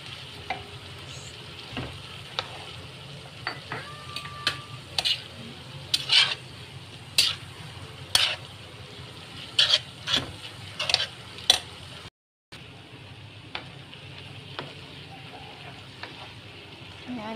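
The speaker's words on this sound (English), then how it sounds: "ihalo lang natin hanggang maluto yung noodles" Yellow noodles for Indonesian mee goreng are stir-fried in a pan, with a steady low sizzle broken by repeated sharp scraping clicks of a utensil against the pan, a brief dropout midway, and a voice talking faintly at times.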